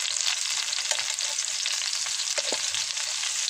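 Taro (gabi) slices frying in hot oil until crispy, a steady close sizzle and crackle with a few soft stirring clicks and no voices.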